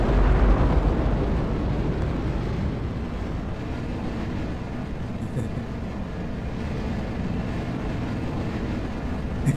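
Rocket engine at full throttle in Kerbal Space Program: a loud, steady broadband roar that holds level throughout without a break, with no talk.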